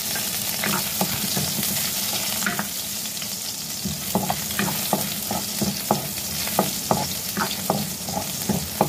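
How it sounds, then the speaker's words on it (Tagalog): Garlic sautéing in a pan with ginger for a mixed vegetable dish with bagoong, giving a loud, constant sizzle broken by repeated sharp clicks and scrapes of the stirring utensil. "Lagyan na rin natin ang ating bawang."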